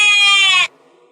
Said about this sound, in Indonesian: suara kambing atau suara domba